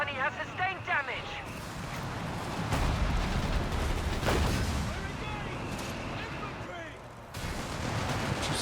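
Artillery counter-barrage with white phosphorus shells in Company of Heroes 3, a dense rumble of booming shell impacts and gunfire under continuous excited commentary throughout.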